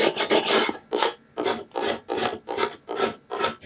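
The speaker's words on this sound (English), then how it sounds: "I'm going to burnish all these edges down again, just to make sure." A burnishing tool rubbed over vinyl edges on a wooden sign: about eight rhythmic scraping strokes, each a short raspy rub with brief gaps, close and clear.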